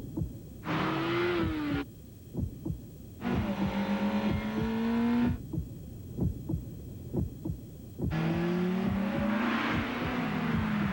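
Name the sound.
Acura RSX 200 horsepower car engine, from a TV commercial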